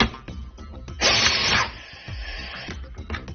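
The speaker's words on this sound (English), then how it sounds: "So let's try the direct driven tool, the LTP." A direct-driven pneumatic tightening tool with a reaction bar runs a fastener down on a hard joint, a short loud burst of whirring and clicking amid surrounding mechanical taps and clatter.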